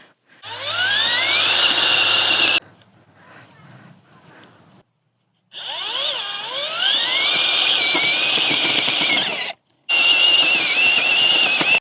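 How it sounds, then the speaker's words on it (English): A Power Planter auger bit driven by a power drill boring into garden soil, loud whining bursts that rise in pitch as the motor spins up, broken by short pauses and a restart. "I was a little skeptical of whether or not the Power Planter auger would work"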